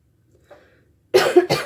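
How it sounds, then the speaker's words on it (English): One person coughs twice in quick succession, close and fairly loud, after a faint breathy sound and a moment of near silence. "I've been having this cough for a couple weeks"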